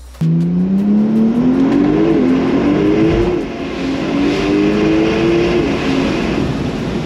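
A car accelerating hard from inside the cabin, the engine roaring in a rising whine that dips briefly at a gear change before climbing again, loud and continuous over road noise.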